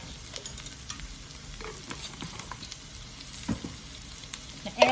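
Chopped garlic frying with smoked apple sage Field Roast sausage in a pan, a soft, quiet sizzle with occasional faint stirring taps.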